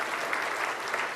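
Audience applause welcoming someone at a church gathering, dense and steady clapping from a crowd that runs throughout without a break.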